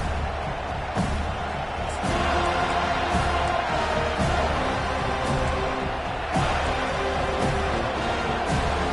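Football stadium crowd at an SMU versus FSU game roaring after the opening kickoff, a sustained loud cheer with sharp bangs and claps rising through it.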